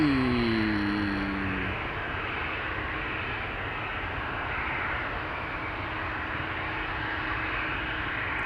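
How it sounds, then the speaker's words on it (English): An Emirates Airbus A380 jet gives a steady, moderately loud broadband roar with a falling whine at the start, heard alone at an airport. "Emirates A380"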